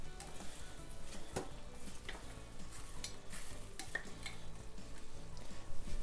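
Celery sticks and a whole pepper stirred in a hot frying pan while making cottage pie, a steady close sizzle with scraping stir strokes and light clinks throughout.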